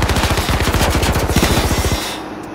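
Rapid automatic gunfire in H1Z1, a tight fast rhythm of loud close shots for about two seconds, then stopping abruptly into a quieter tail.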